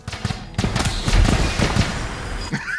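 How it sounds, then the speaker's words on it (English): A redesigned video game gun sound, softened into a small pea shooter, fires in a rapid, dense burst of overlapping shots with faint low booms underneath, fairly loud and continuous before tapering off. "I redid the gun sound so it's a little less intense"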